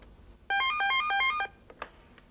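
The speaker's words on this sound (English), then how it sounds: "I'm going to make another phone call to Joe on his other telephone" A telephone rings for an incoming call, a single burst of rapid warbling electronic tones lasting about a second, clear and fairly close, followed by a faint click in a quiet room.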